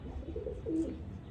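A Chinese racing pigeon coos softly and briefly, a low throaty warble heard faintly against a quiet background with no talking.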